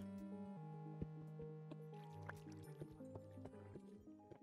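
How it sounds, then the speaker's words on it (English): Water trickles and drips in a Minecraft cave, with scattered small plinks and gurgles beneath steady sustained background music tones. "Found the water."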